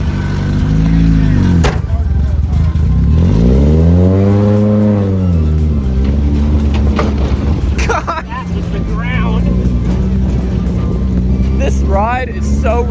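A Mazda Miata with a swapped LS V8 engine revs up and down repeatedly, loud and close, with a rough mechanical clatter of valve noise underneath and people talking over it near the end.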